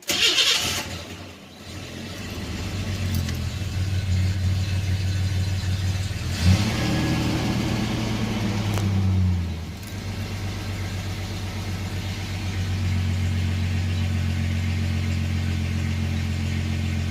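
A carbureted 2.8-liter truck engine cranks and fires up, revs briefly, then settles into a steady, deep rumbling idle that carries on to the end.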